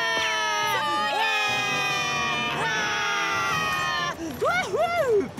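Cartoon characters scream loudly in sustained, wavering high-pitched cries, several voices overlapping like a panicked group fleeing, ending in shorter rising and falling yelps.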